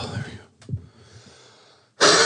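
A person coughs a few times, short rough bursts close by, followed by a sudden loud noisy blast at the end.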